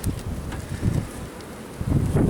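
Gusty strong wind buffeting the microphone in uneven bursts during a beehive inspection, with a faint insect buzz underneath.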